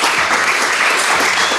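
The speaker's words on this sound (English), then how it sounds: "massive round of applause for our 4 amazing panelists" A dense round of applause from a live business-event audience cheering four panelists, steady and loud throughout with no pauses.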